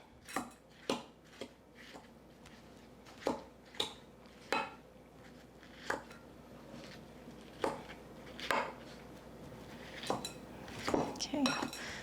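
Pestle smashing berries in a bowl makes a series of sharp knocks and clinks, roughly fifteen irregular strikes, each fairly quiet and close, with faint squishing in between.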